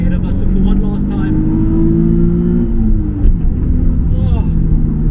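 A Nissan 350Z HR sports car engine revs hard and climbs in pitch to about 6,800 rpm, loud and close, then eases off briefly before picking up again.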